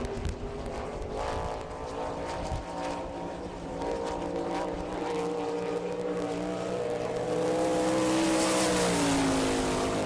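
A sprint car engine roars around a dirt track on a qualifying lap at an All Star Circuit of Champions race in Rossburg, Ohio, a loud sustained whine that rises in pitch as the car accelerates.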